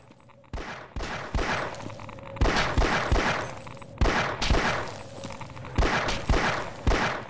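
Sharp pistol shots fired in the virtual reality game Half-Life VR, roughly a dozen close, loud reports at an uneven pace with echoing tails between them, no speech.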